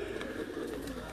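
Teddy breed pigeon, a Kasuri-Lahori type, gives a soft low coo on a rooftop, steady and close with a faint airy background, no talking.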